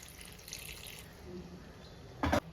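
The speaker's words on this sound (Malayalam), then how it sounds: "ഉപ്പിട്ട് തിളപ്പിച്ചാറിയ വെള്ളമാണ് ഞാൻ ചേർത്ത് കൊടുക്കുന്നത്" Boiled, cooled salted water is poured into a gooseberry pickle as a faint, soft liquid trickle, and a short, sharp clatter breaks in near the end.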